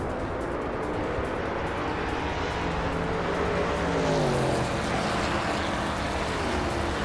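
Race cars in a racing video game, including a 1968 Porsche 909 Bergspider, a steady engine roar with a rising whine that sweeps up as a car accelerates past, alone without talk.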